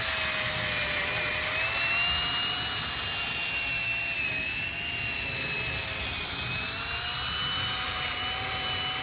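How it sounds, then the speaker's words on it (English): A power sander on its lowest setting works evenly over a dull plastic headlight lens, making a continuous high-pitched whine that drifts slightly in pitch over a steady whirring hum. "lowest power setting, and just gently just sand it evenly across the surface, even pressure all across"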